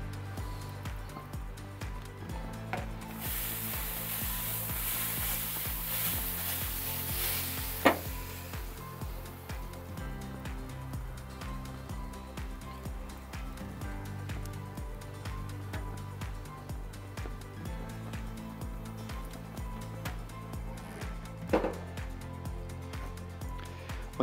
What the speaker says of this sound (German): Ebenso geben wir jetzt unsere Couscous-Spieße auf die direkte Hitze.